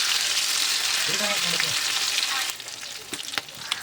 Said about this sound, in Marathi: व्यवस्थित स्लो गॅसवरच फ्राय करून घ्यायची हे बघा छान सरकोच अशी भाजून घ्यायची